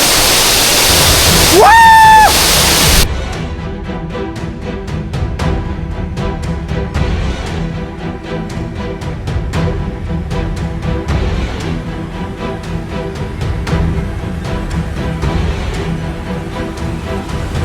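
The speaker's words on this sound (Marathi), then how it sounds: "डोंगरातून कोसळणारा धबधबा" A steady, roaring rush of a waterfall falling from the hills near Kolhapur fills the scene, continuous and loud, with a brief tonal whistle near the start.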